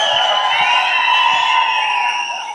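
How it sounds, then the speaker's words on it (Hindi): A large audience cheering and whooping loudly at an event, a sustained bright roar of many voices with faint clapping underneath. "इतनी ताली होनी चाहिए"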